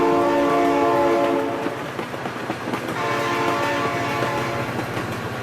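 A train in the BeamNG.drive driving game sounds a loud sustained horn, then rumbles past with rhythmic clattering wheels, heard close and alone.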